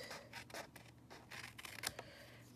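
Scissors trimming a paper piece for handmade card making, a few quick snipping cuts close by, faint and crisp, with no talking.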